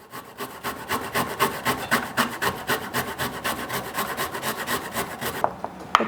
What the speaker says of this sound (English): Grated ginger, so we simply use a microplane and we grate.